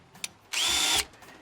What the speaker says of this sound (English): So what I'm gonna do is actually drill this in here like